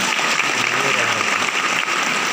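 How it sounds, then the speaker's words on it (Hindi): An audience at a Safe Shop gathering bursts into dense, sustained applause, many hands clapping loudly and continuously without a break. "एक बार जोरदार तालियां"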